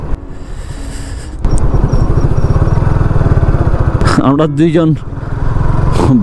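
A motorbike rides along the beach at Cox's Bazar, its engine a loud, close steady drone with rhythmic putter as someone speaks briefly over it.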